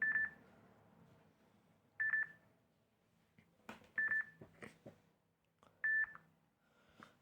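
Four short, bright double-beep notification tones from a Samsung Galaxy J7 Neo phone ring out about every two seconds. Faint handling noises and soft clicks fall in the quiet gaps between them.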